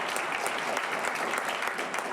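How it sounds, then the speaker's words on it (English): Audience applause at a conference's closing remarks, a dense steady clapping from a crowd throughout, moderately loud with no break. "So just a quick round of applause."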